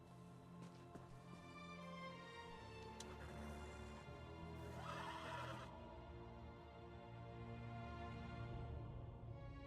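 Horses neigh in the video game Elder Scrolls Online, with several quiet whinnies and a longer shrill neigh in the middle, heard faintly over steady, droning game music.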